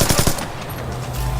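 Rapid automatic gunfire rattles loudly and close in the multiplayer Spies vs Mercs mode of the video game Splinter Cell Blacklist, a short burst of quick shots trailing into a steady game-world hum.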